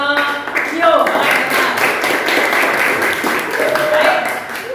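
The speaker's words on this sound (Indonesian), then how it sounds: "kalian tepuk tangan untuk kelompok View" Audience in a classroom presentation session clapping for a student group, a dense burst of handclaps sustained for several seconds with brief voices mixed in.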